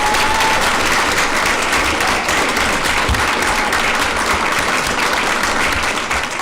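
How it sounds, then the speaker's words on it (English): Audience at a school district board of education meeting applauds loudly and steadily, a dense crowd clapping that holds strong throughout and tapers only slightly at the end. "Let's give them all a great hand of"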